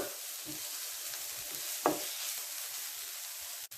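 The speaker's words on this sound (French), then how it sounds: "Je mélange bien." A pan of sizzling food stirred with a utensil before minced meat goes in, a constant hiss of frying with a few scraping strokes and one louder clack near the middle.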